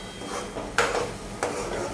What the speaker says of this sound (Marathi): मस्त त्या मसाल्याला तेल सुटेपर्यंत मस्त भाजून घ्यायचं आहे